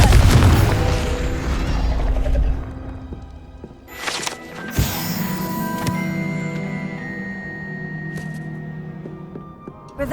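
A Confringo blasting spell in Hogwarts Legacy detonates with a deep, loud boom and crashing debris, followed by a sharp burst and lingering magical ringing tones and rumble.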